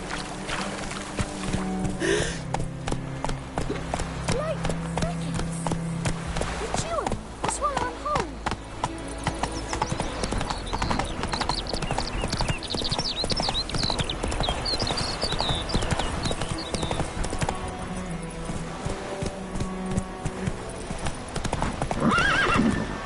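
Roach, Geralt's horse in The Witcher 3, galloping with steady clip-clopping hoofbeats and an occasional whinny, over game music and ambient sound for the whole stretch.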